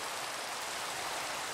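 Rain falling in a sky-island building video game, a soft, steady hiss of broadband noise without distinct drops, faint and continuous with no voices.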